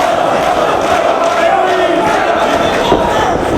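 Packed Philadelphia arena crowd at a wrestling tag team match roaring steadily, many voices cheering and shouting together in an unbroken wall of noise, with one brief sharp thump near the end.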